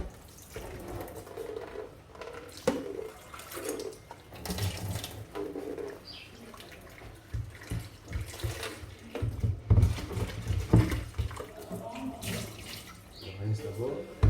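Carrots rinsed under a running kitchen tap, water splashing and gurgling unevenly in a sink close by, with a voice talking over it throughout.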